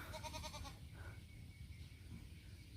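Imported goats on a farm bleat in a faint, wavering call at the start, then fade under a low rumble of outdoor background noise.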